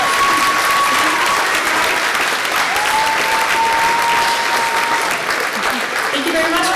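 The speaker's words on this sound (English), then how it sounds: "Let's hear it up for our panelists." An audience applauds panelists at a celebration and reunion event, with loud sustained clapping from a crowd that continues evenly throughout, joined by a few faint tonal whistles.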